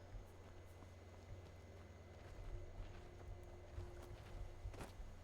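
Horse hooves clip-clop faintly at a steady walking pace in the Skyrim video game, with a low game ambience underneath.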